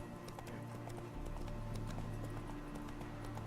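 Roach the horse from The Witcher 3 galloping at a steady pace, with rhythmic hoofbeats clopping continuously over a low rumble, no talk.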